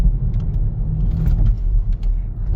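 A 2024 BMW iX1 electric car accelerates hard in sport mode, giving a low, steady cabin rumble of road and motor noise with faint light clicks on top and no talking.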